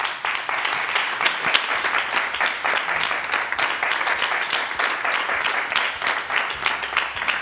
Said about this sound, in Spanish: Un aplauso para Ana Pilar Fañanás y Asier Ruiz.